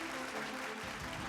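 An audience at a real estate awards ceremony applauds to welcome the award presenters, a dense, steady burst of clapping with a low murmur under it.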